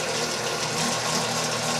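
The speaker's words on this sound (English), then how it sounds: "you can hear that motor chugging a little bit more" A Vevor BMD-8 bread maker's motor runs steadily close by, a continuous low mechanical hum and chugging whir with no voices over it.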